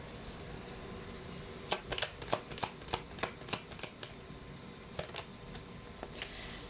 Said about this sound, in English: So let's try to pull up another set of cards here.